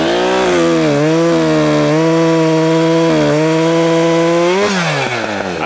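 A Husqvarna 564XP 60cc chainsaw with a freshly sharpened full-chisel chain screams loudly and continuously at close range, its pitch dipping as it bogs into the cut and rising again between pulls.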